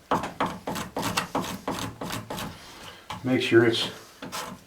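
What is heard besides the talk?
cabinet scraper smoothing wooden toy handle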